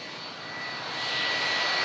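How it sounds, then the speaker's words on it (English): Engines of a 36-year-old Boeing 757 on a Toronto-bound flight give a steady, loud broadband roar with a high whine, swelling slightly over the stretch with no voices. "We're just going to breathe in this beautiful, legendary aircraft."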